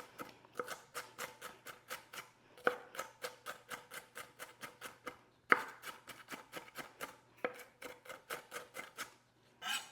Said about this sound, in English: just pass your knife one more time just to get them very finely diced